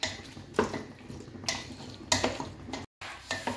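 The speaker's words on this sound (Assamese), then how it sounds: "এয়া মই এইখিনি এতিয়া লৰাই আছোঁ।" Chicken biryani ingredients are stirred in a pot with a spoon, giving several scraping, clattering strokes at an uneven pace, close and fairly loud, with a short silent break near the end.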